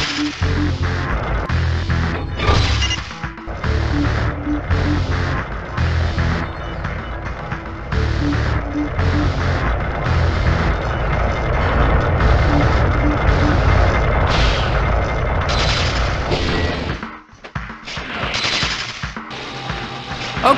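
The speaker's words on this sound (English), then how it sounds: "quit shooting the lasers" Rapid laser shots from enemy turrets in the Spider-Man (2000) video game rattle in dense, loud bursts with brief gaps, mixed with crashing impacts throughout.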